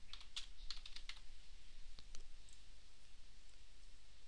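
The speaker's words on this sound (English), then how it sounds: "click anywhere, type in your name" Quick bursts of clicky keystrokes on a computer keyboard, close and fairly quiet, in a rapid cluster at the start and a few scattered taps later, with no voices.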